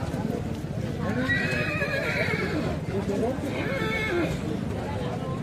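A mare whinnies twice, each call a few seconds long, at the Jasra horse race fair, over a busy background with faint hoof clatter.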